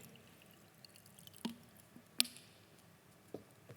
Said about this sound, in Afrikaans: Dan kom ons en ons probeer ons eie water hierin gooi.